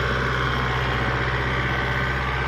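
A tractor engine idles steadily nearby, a constant low rumbling drone with mechanical vibration and no talking.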